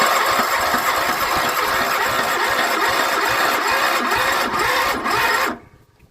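A Kohler Command small engine with a rod seizing on the cylinder, running loud and rough close by for several seconds before cutting out abruptly to near silence.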